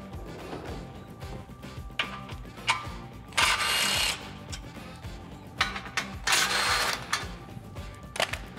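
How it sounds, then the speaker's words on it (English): Socket wrench with a 16 mm socket working a bracket bolt loose on a Jeep Wrangler JL bumper mount, giving close ratcheting and clicking bursts over a steady background hum, with no talk. "We're gonna use a 16 millimeter socket."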